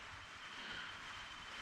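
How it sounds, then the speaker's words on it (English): Rain just starting to fall outside, a steady, soft hiss of drops that stays even and fairly faint throughout, with no talking. "It just started to rain."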